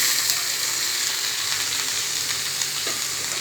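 Pumpkin pieces sizzle in hot oil in a pan, a dense continuous crackling hiss with faint stirring, close and steady throughout, no voices.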